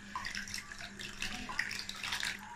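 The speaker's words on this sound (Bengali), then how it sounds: "এবার আমগুলোকে আমি ছেঁকে নেব, যাতে করে আমের শাঁস বা গোটা গোটা যদি হয়ে থাকে সেটা ধরে নেবে।" Fresh mango juice pours and trickles through a kitchen sieve into a bowl, a soft, continuous liquid splashing and dribbling close up with a low steady hum beneath it and no talk.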